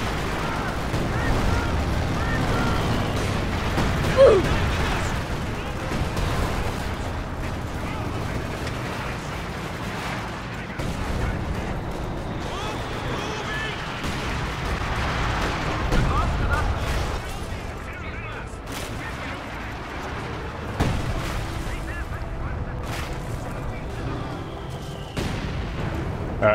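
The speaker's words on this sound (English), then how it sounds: "they're calling in some kind of artillery." An artillery barrage in the video game Company of Heroes 2 sends repeated booming explosions and rumbling blasts through a dense battle din, while a player talks over the shelling.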